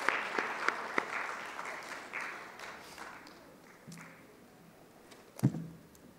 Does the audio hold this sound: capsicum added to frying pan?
no